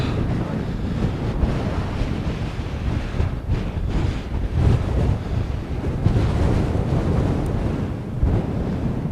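Strong wind gusts buffeting the microphone on a high Tibetan mountain pass near 6000 metres, a loud continuous roar and rumble throughout with no voices.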